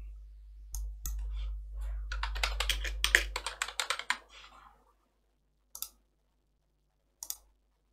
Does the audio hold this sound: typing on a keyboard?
yes